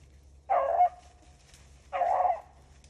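Beagles bay in two separate bursts while chasing a swamp rabbit through a North Carolina swamp. The calls are moderately distant with a pause between them, and nobody speaks over them.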